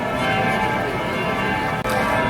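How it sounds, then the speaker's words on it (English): Church bells ring steadily in the distance across a bright, busy outdoor ambience on a sunny morning in Germany, their tones blending into a continuous wash with one brief dip. "you can hear the church bells in the background."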